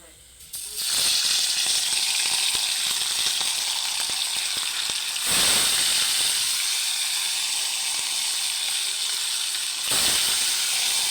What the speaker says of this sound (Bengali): মাছগুলো ভালো করে লাল লাল করে ভেজে দেবো